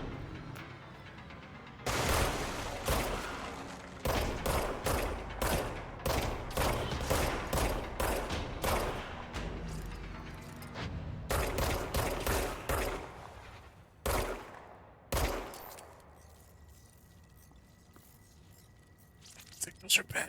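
Enemy rifles in the game Control firing in rapid bursts of tap shots, a dense run of sharp reports that pauses, resumes briefly, then tails off to quieter background, with talk over parts of it.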